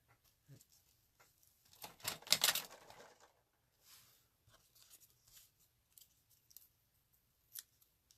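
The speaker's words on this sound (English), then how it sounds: "And we'll trim that a little bit." Scissors trim paper in a card-making craft setting: a quick cluster of crisp snips close by, followed by a few faint, scattered cuts and small rustles in a quiet room.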